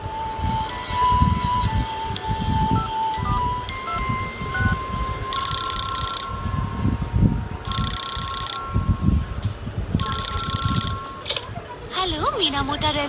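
A telephone rings in repeated bursts, three trilling rings spaced a couple of seconds apart, over talking voices and music in a Doraemon cartoon episode.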